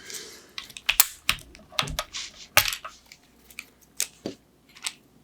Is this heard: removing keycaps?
yes